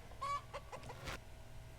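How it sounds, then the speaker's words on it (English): The chicken in the Minecraft video game gives a few short, quiet clucks in quick succession over a soft background hum, then falls silent. "This chicken is there with the pure intent to distract the player"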